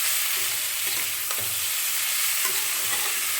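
Boiled taro stolons (kochur loti) frying in a pan over a lowered flame, giving a steady close sizzle with occasional soft stirring scrapes and no voices.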